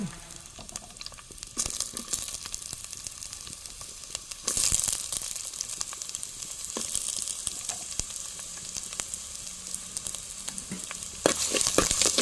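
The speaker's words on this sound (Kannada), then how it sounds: "ಎಣ್ಣೆಗೆ ನೀರುಳ್ಳಿಯನ್ನು ಹಾಕ್ತೇನೆ" Onions dropped into hot oil in a pan crackle and sizzle steadily, with louder bursts of frying as they are stirred, fairly close and without talk.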